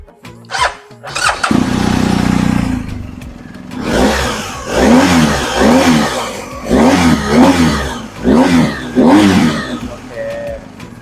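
A 2019 BMW R1250GS Adventure motorcycle idles loudly up close and then takes a series of sharp throttle blips, each rev rising and falling in quick succession, with a voice briefly heard over it.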